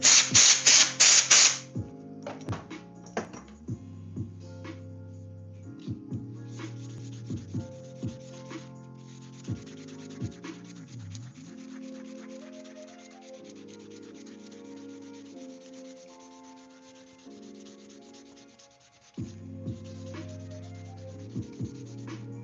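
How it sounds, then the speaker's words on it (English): Light hand sanding of a craft piece: repeated soft rubbing strokes, fairly quiet and close, over a background of sustained tonal sound. "Just a nice light sand."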